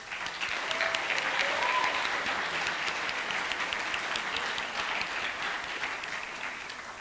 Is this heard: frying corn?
no